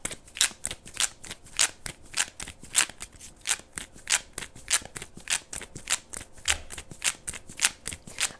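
A deck of oracle cards being shuffled over and over, each riffle a crisp papery burst in a steady rhythm, close and clear with no talking.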